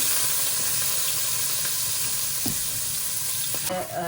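Rice frying in ghee in a kadai gives a steady, close sizzle with a few soft stirring scrapes, continuous and fairly loud throughout with no voices.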